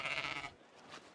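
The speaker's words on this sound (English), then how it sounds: "It's a sheep, and it's been slaughtered." A sheep in Egypt gives a single short, harmonic bleat, close and fairly loud, which cuts off after about half a second and leaves only quiet background.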